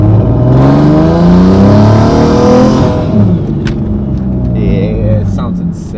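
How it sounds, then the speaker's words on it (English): A single-turbo Nissan 350Z roars loudly as it accelerates, the exhaust pitch climbing through revs before easing off, with whooshing and whistling turbo noises after the lift and someone talking over it. "hopefully we can get the turbo spool on camera. Over this loud-ass exhaust"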